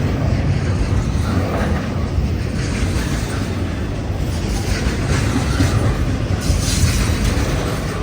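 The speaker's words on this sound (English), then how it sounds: "this is my first time seeing a CP and a CN train at the same time" CP and CN freight trains rolling past together, a steady loud rumble of rail cars with clickety-clack wheel noise and occasional faint squeal, continuous throughout with no talking.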